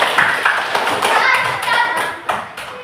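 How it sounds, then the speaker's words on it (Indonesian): A classroom of children applauds for the first group after a lesson on procedure texts, a dense scatter of many hands clapping close by with some overlapping voices, fading off near the end. "tepuk tangan untuk kelompok 1"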